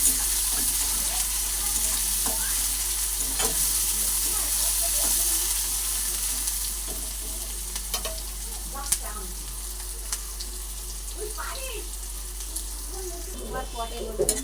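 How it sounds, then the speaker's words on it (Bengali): Chopped onion, chili, ginger and garlic sizzle steadily in hot oil, loud and close, with scattered clicks and scrapes of stirring that grow more frequent as the hiss eases in the second half. "পেঁয়াজ, লঙ্কা, আদা কুচি আর রসুন কুচি একসঙ্গে আমার খুব ভালো করে ভাজা ভাজা হয়ে গেছে"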